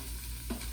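Beef and onion frying in a pan for a beef stroganoff noodle soup, giving a steady soft sizzle with a brief stir near the middle, close and fairly quiet.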